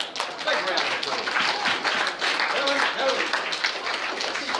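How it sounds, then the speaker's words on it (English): Audience applause at a fundraiser event, a dense, steady wash of clapping mixed with scattered voices that holds at an even level throughout. "give them all a big round of applause"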